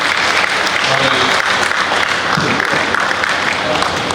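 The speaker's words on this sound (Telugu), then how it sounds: "అందరూ కూడా చప్పట్లతో ఆహ్వానించాల్సిందిగా కోరుతున్నాను" An audience at a felicitation ceremony claps in dense, sustained applause throughout, loud and close, with no pauses.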